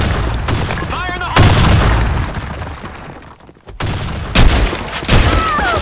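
Grenade blast and heavy gunfire in the online shooter Blackshot, loud booming bursts punctuating continuous shooting, with faint game voice callouts in the background.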